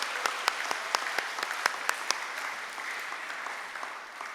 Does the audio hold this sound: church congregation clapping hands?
yes